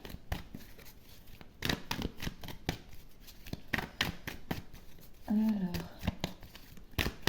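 Tarot cards are shuffled to draw a fourth card, producing quick papery riffles and flicks in bursts that run through the whole stretch, soft and close, with a brief spoken word near the end.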